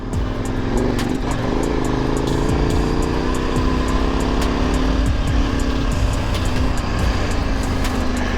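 An off-road vehicle in low gear on a rocky, muddy Idaho backcountry trail gives a loud, continuous engine drone with a slowly rising pitch, close and steady, with no talking.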